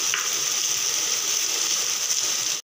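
Sliced onion sizzling in hot oil with a little salt, a steady bright frying hiss that holds evenly throughout and then cuts off abruptly.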